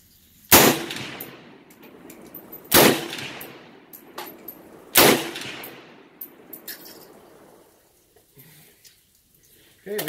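Three loud, sharp rifle shots from a Bear Creek Arsenal 7.62x39 firing 154-grain soft point rounds, spaced about two seconds apart, each with a ringing outdoor decay, then quieter handling noise.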